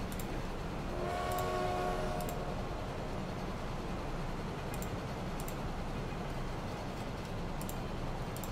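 A train in Transport Fever rumbles as a steady, moderately loud rail noise, with a brief tonal horn early on and a few faint clicks scattered through the constant bed.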